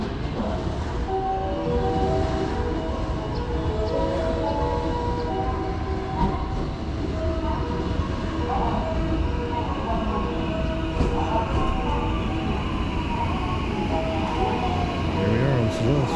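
A special rapid train bound for Maibara, Japan, pulls into a station platform with a steady, loud rolling rumble and screeching wheel tones throughout, with people's voices faintly mixed in.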